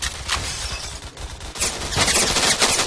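Rapid automatic gunfire in the Roblox shooter Phantom Forces, dense overlapping bursts of shots that run almost without pause and grow louder toward the end.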